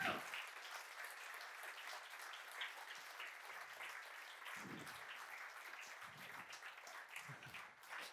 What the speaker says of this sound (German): Und hier ist er, einen fetten Applaus für Jonas Eisert.